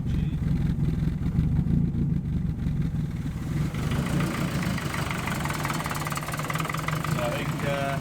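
Compound-turbo car engine idling steadily nearby with a low, rough rumble, an exhaust leak out the side by the boot tube adding a ticking, chuffing edge throughout.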